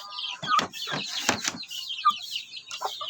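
A Rhode Island Cross rooster gives a run of close, loud clucks and squawks in irregular bursts, with short quiet gaps between the calls.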